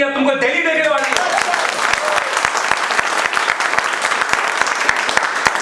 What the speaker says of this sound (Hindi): ताली इन दर्शकों के लिए बजाओ